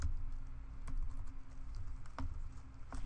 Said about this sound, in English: where you could just simply start typing